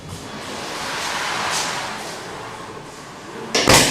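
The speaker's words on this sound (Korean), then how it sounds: "그러면 이쪽 문을 닫겠습니다." A urethane panel door fitted with an interlock closes, with a steady noisy rush and then a sharp, loud close near the end, heard up close and without speech.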